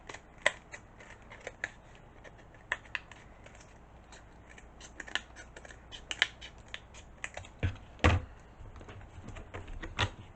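Scissors trim the corner of a Dollar Tree farmhouse sign, with a series of quiet, close snips and crisp cuts scattered through the clip, louder near the end, with no talking.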